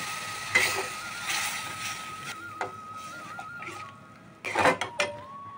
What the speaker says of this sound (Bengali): এবার নারকেলের দুধটা দিয়ে দেবো